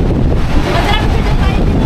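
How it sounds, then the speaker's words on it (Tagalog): Strong, sideways-driven rain and gusting wind buffet the microphone on a beach, a dense, loud roar that blankets everything. "medyo malakas yung ulan at medyo mahangin siya"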